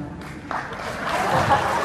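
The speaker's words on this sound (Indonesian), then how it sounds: "Tolong yang pernah ke Sarkem tepuk tangan." A comedy show crowd in Jogja breaks into clapping, starting faint and swelling into a fuller patter of hands over about two seconds.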